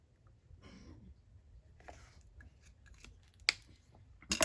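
Sharpie roller pen scribbling and writing on paper in a daily journal, soft scratchy strokes in short bursts, with a couple of sharper taps near the end, close and quiet.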